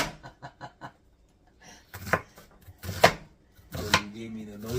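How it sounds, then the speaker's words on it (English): Kitchen knife chopping onion on a board during meal prep: five quick, crisp chops in a row, then more irregular cutting under close conversation between two people. "I'm going to chop up the rest of that onion from yesterday."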